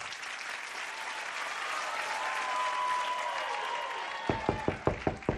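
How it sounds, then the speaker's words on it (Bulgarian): Steady audience applause fills a television talent show studio after a crystal-balance act, broad and sustained, closing with several sharp rhythmic claps or beats near the end. "Дами и господа, аплодисменти за супергероя"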